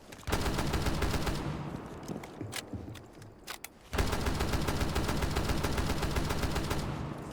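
Rapid automatic DMR fire in Rainbow Six Siege, two long bursts of loud, evenly spaced shots separated by a short pause filled with scattered clicks and clatter, no voices.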